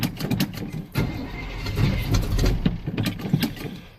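A 1986 Chevy pickup with a worn starter clutch starting from cold: a brief burst of starter cranking, then the engine catches and settles into a loud, rough, rumbling idle close by.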